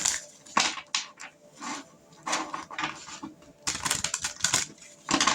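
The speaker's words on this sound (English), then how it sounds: "Shuffle these a few more times" Oracle cards are shuffled in quick papery bursts of riffling and flicking, close by, with short pauses between.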